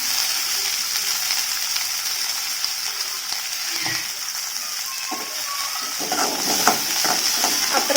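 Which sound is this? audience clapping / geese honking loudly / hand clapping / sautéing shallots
sautéing shallots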